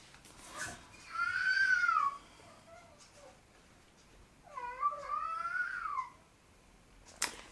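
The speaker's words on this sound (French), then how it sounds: "Vous allez entendre Alaric qui hurle dehors." A cat outdoors yowls twice in long, drawn-out cries, somewhat distant, with a brief sharp click at the end.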